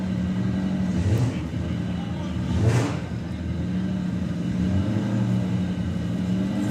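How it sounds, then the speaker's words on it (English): A heavily modified VW Beetle drag car revving at a Bug Jam qualifier, a steady loud engine drone with two sharper rises, heard over a commentator's voice and the crowd ambience of the track. "Alex Knott for the first time this weekend in the penultimate qualifier with the highly medicated Beetle."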